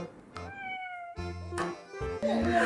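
A sick kitten at a veterinary clinic meows several times in quick succession, close and clear, the cries rising and stretching in pitch with short pauses between them.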